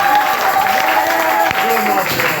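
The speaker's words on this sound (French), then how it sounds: "qu'on peut lui offrir une acclamation très forte" Crowd applause and cheering at a church gathering, loud and continuous throughout, with a preacher's voice and sustained tones mixed over the clapping.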